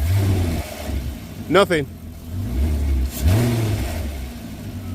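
An Audi TT 8N with a DSG gearbox revs its engine in short rising bursts while being tested for drive, heard over a steady low engine hum with voices talking nearby.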